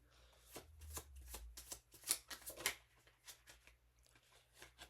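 Tarot cards being shuffled close up in a quiet room, a rapid run of crisp riffling bursts with a few sharper snaps, heard alone with no talking.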